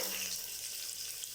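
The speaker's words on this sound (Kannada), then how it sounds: "ಇವಾಗ ಬಂದು ಈರುಳ್ಳಿ ಹಾಕ್ಕೋಬೇಕು" Onion hits hot oil with mustard seeds for a white vegetable kurma, giving a steady, bright, hissing sizzle that stays even and moderately loud throughout, with no voices.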